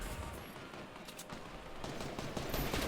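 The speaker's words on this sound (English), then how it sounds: "That pulse rifle hitting good." Pulse rifle gunfire in a competitive video game match, a steady fusillade of rapid shots that runs continuously at moderate level and grows slightly denser and louder toward the end.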